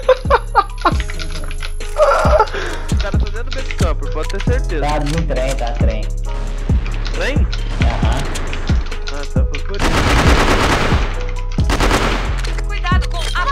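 Rapid bursts of automatic gunfire and sharp single shots crack through a ranked video game match, loud and close, over an electronic game soundtrack with players talking.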